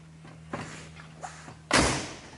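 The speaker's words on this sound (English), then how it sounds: "How's that for a Mopar door to shut?" The door of a 1969 Plymouth Road Runner is swung shut. A few light clicks and handling sounds come first, then a single loud, solid slam with a short decay.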